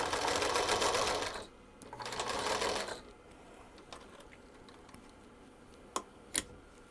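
A sewing machine runs a top stitch in two short, close bursts of rapid mechanical whirring, followed by quiet handling with a few sharp clicks.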